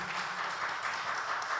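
Congregation at a church worship service applauding, a quiet, even wash of many hands clapping continuously without pause.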